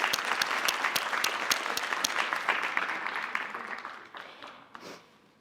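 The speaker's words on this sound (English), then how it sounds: "let's give them a round of applause" Audience applause for two guests walking onstage at a play symposium, a steady patter of many hands clapping that holds for several seconds, then thins and fades out.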